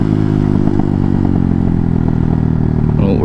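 A JFG Hawk 250 motorcycle runs with a steady, loud engine drone up close, while faint crackling pops from the exhaust break through the rumble.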